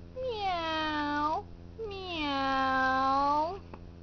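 A voice imitates a sad kitten meowing in two long, drawn-out, whiny meows with a short gap between them, clear and close.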